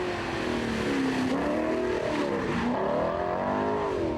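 The V8 of an Alfa Romeo 8C, the same engine used in Maserati cars and the Ferrari F430, howls loudly and steadily, its pitch rising and falling as the car revs and accelerates, with no talking over it.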